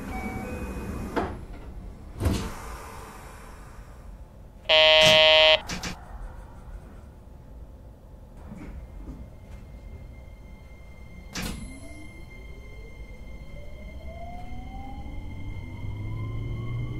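A door-closing signal sounds as train doors close at departure on the JR Kansai Airport Line Shuttle in a BVE train simulator game, a loud buzzer burst about one second long amid thuds, a chime and motor whine.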